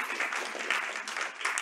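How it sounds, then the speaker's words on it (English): An audience in a university lecture hall applauding to welcome a speaker, a dense, steady burst of many hands clapping at moderate loudness throughout the short span. "give him a warm round of applause and a warm welcome"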